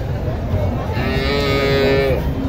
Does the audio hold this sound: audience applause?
no